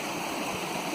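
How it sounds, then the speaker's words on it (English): Clear water flows through a culvert under Wiley Road near Thunder Lake, giving a steady, close rushing and gurgling wash that stays even for the whole short moment. "The water coming under the road, nice and clear"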